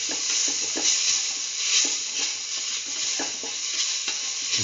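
Salt and garlic mixed in a pan over heat produce a steady hiss and sizzle with rhythmic scraping stirs, close and continuous, without any talk.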